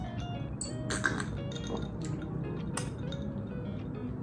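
Glasses of Black Dog Scotch whisky mixed with Limca clink together in a toast, with a few bright clinks over a steady low background hum and no talk.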